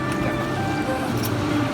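River water flows steadily past a century-old water pump from the Dutch colonial era, making a constant rushing wash mixed with a low mechanical hum.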